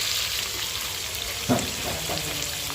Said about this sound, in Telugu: ఆయిల్ అయితే వేసుకొని మొత్తం అయితే ఫ్రై చేసేసుకోవాలి